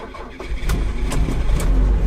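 A tiny Japanese car's engine is started with the key, a short starter crank catching into a low, rough running rumble that settles toward idle, loud and close.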